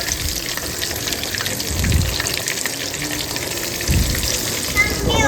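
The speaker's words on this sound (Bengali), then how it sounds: "নাগেটগুলো ফ্রাই করি আর সাথে হলো চিকেন পপকর্ন ফ্রাই করব" Chicken nuggets and chicken popcorn fry in hot oil with a steady bright sizzle and bubbling, close up, broken by a few low knocks of handling.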